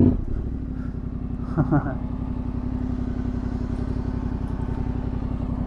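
A Yamaha Tenere 700 rides through a paddock, its engine throbbing in a steady, even pulse, near and constant, with a brief clatter early on.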